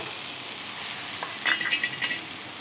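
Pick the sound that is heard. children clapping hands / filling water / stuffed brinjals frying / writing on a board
stuffed brinjals frying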